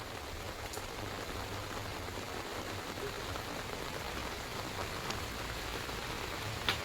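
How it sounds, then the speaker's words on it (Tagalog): Steady rain falling outdoors, a soft continuous patter and hiss at a moderate distance with no voices. "Maulan."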